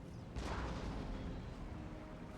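Cannon artillery fires in a Total War: Empire battle, one deep muffled boom followed by a rumbling tail that fades slowly under other battlefield noise.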